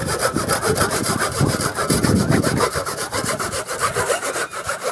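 A hand saw cutting through the wood of a storm-felled almond tree, with rapid rhythmic back-and-forth rasping strokes, loud and close, and no talk over it.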